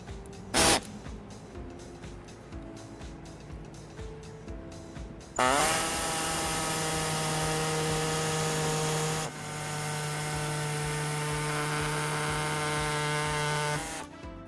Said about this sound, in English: we do have our air saw, so we'll be using that